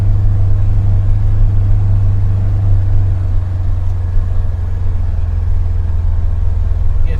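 Polaris Ranger UTV engine working hard at about 3,000 RPM while crawling along at 8 miles an hour, a steady loud low rumble with no pauses.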